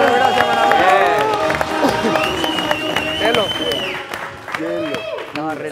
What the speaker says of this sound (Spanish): Fuerte el aplauso, por favor, para Diego Armando Maradona